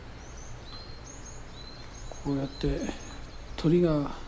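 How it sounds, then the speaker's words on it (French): Small birds chirp and trill in the green surroundings of Eiheiji temple, with thin high calls early on and a few fuller, closer phrases later over quiet background hiss. "Nous entendons des oiseaux chanter."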